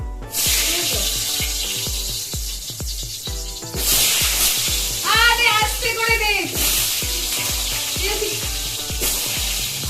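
Small round potatoes coated in salt and turmeric hit hot oil in a pan, sizzling loudly in bursts over a steady rhythmic background beat, while a person speaks briefly nearby.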